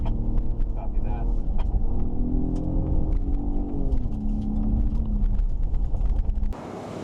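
A 2017 Ford F-150 Raptor pickup driving off-road, giving a steady low engine rumble with road and wind noise throughout, and voices talking over it from inside the cab.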